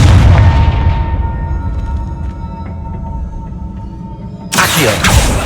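Deep booming blasts from the Confringo spell in Hogwarts Legacy: a heavy explosion at the start fades into a rumbling tail, then a second sharp burst lands near the end.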